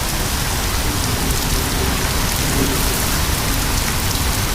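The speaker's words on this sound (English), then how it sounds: "A lot of heavy rain here." Heavy rain pours steadily and loudly during a derecho thunderstorm in St. Louis, Missouri, a dense, unbroken wash of noise with no voices.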